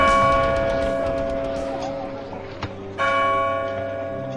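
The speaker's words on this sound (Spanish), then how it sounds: "La noche de difuntos me despertó a no sé qué hora el doble de las campanas." Church bells tolling for the night of the dead, a slow, sustained ringing with long humming overtones that fade and then swell again as another stroke lands near the end.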